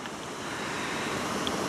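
Loaded Seaway boat sitting on the water, a steady broadband wash of waves and wind noise, close and even throughout, with no clear engine.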